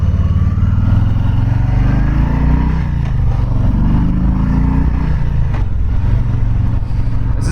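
A first-year Harley-Davidson Softail Low Rider 107 motorcycle is ridden at steady speed. Its loud, deep engine rumble and exhaust drone run continuously under rushing wind, with slight shifts in revs.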